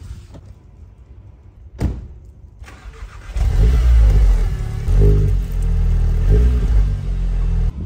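A Mercedes GLE 63 AMG in Dubai: a door thump, then the engine fires and swells into a loud, steady drive-off rumble with gear-change dips.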